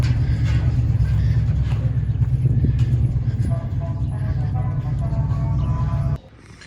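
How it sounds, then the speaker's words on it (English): A truck loaded with propane tanks rolls through narrow streets in San Miguel de Allende, Mexico, its steady low engine rumble loud and close throughout, with rattling and clattering over the road before it cuts off abruptly near the end. "this is a truck full of propane tanks just rolling through these little streets"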